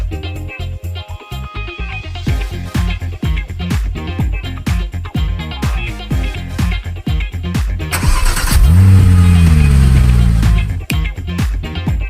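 A car engine started with a portable jump starter cranks and catches, then runs and revs up loudly near the end, close and alone without talk.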